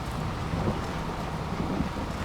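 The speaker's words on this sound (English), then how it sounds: "Bit of rain" Rain pours steadily in a farming video game, a dense continuous hiss with low rumbling underneath, loud and unbroken throughout.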